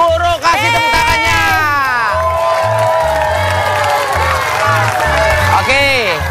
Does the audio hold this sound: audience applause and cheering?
yes